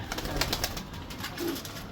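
A pigeon hen coos softly amid steady background noise in a loft, the low murmuring calls faint and close.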